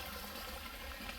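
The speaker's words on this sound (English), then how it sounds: "Lots of little mini waterfalls like this." A small waterfall from a water source beside a forest road trickles and pours softly, a faint, steady splashing flow with no talk over it.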